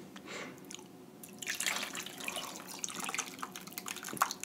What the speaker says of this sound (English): Let's pour this butter, because it's hot.